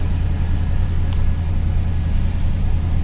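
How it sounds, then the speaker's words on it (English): Loud, steady cold idle of a 1973 Dodge Charger SE Brougham's V8 engine close by, a deep even rumble with one brief faint click partway through. "let's see if we got the cold idle warming it up right now"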